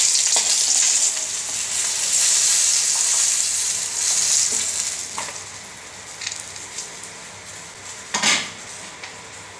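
Fried fish comes out of a pan of hot oil that sizzles steadily, while a metal spatula scrapes and clinks against the pan in sharp, scattered taps near the end.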